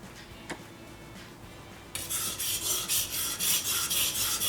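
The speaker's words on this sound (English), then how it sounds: "I turn it around, repeat, back and forth, use the whole length of the stone" A knife blade scraped back and forth along the full length of a whetstone, rising after a quiet start into a loud, steady run of rhythmic rasping strokes close up, with no talking.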